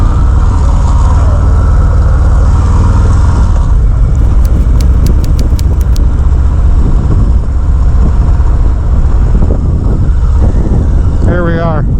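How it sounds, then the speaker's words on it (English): A 2020 Harley-Davidson Fat Boy's engine rumbles heavily and continuously while being ridden, loud and close with wind noise, lugging low before a brief rev toward the end. "Boy, the engines on these things vibrate."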